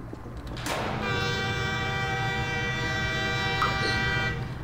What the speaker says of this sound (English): why is that car making a train sound?